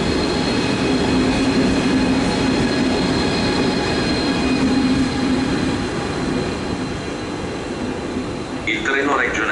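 A train rolls into platform 7 at Bari Centrale station, a loud steady rumble of wheels and carriages that holds for several seconds before a brief squeal near the end.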